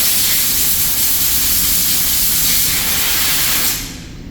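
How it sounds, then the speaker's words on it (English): Compressed air blasts steadily through the bottom powder bar of a GX141 powder coating gun, a loud continuous hiss that holds for about four seconds before abruptly cutting off. "So initially, I would blow air through the bottom powder bar."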